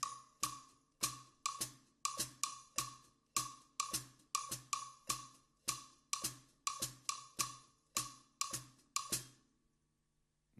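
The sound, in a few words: clave rhythm in 6/8 time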